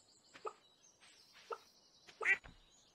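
A few short, faint clucks from chickens on a farm in Stardew Valley, three separate bursts spaced about a second apart in an otherwise quiet scene.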